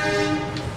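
Gumarang economy class passenger train, a steady rumbling train sound with sustained tonal hum, loud and close for under a second, with no speech.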